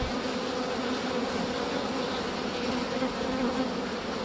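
A dense, steady buzzing of many honey bees fills the air, a continuous droning hum at moderate volume with no voices.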